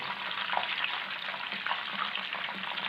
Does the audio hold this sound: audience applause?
no